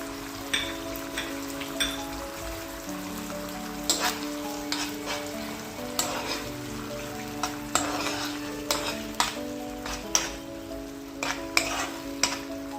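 Chopped tomatoes sizzle and fry in a pan for homemade pasta, a steady hiss broken by sharp clinks of a spoon stirring against the pan, with no talking.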